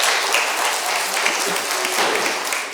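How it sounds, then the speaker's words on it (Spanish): A church congregation gives the musicians a round of applause, a brief, close, steady burst of clapping from the whole room. "Le damos un aplauso a los músicos."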